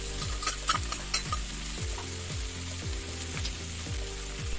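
Paneer chilli stir-fried with ketchup and chili sauce in a pan: a soft continuous sizzle under a regular rhythm of spatula strokes, roughly two per second, with a few metallic taps early on.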